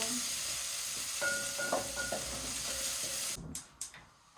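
White onions cooking gently in a pan for Polish red cabbage, a faint steady sizzle with a few soft stirring scrapes, fading near the end.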